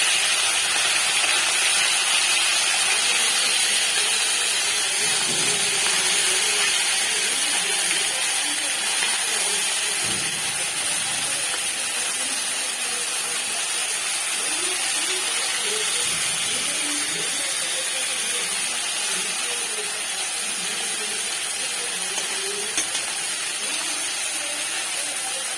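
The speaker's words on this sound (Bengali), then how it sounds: "তো এখন তেলের মধ্যে দিয়ে দেব লবণ হলুদ মাখিয়ে রাখা মাছগুলো" Pieces of mourola fish, rubbed with salt and turmeric, fry lightly in hot oil in a home kitchen, giving a steady, even hiss and sizzle that carries on unbroken, with faint clinks of utensils.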